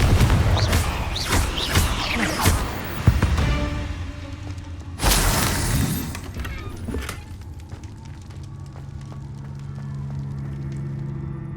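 Repeated Confringo blasting spells burst in Hogwarts Legacy while fighting spiders and a troll, giving loud booming explosions with swooshing tails, the heaviest blast around the middle, then fading into a lower rumble of battle.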